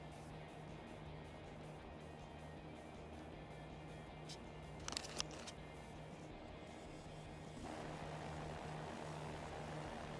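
Steady propeller engine drone of a Cirrus SR20 single-engine plane in the X-Plane 11 flight simulator, a constant low hum running throughout with a brief click-like burst midway and a slight rise in noise near the end.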